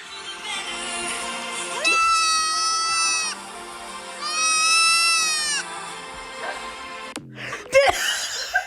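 A goat bleats in a TikTok clip, two long, wavering, nasal cries with a loud, close tone, followed by brief chuckling and a short burst of noise at the end.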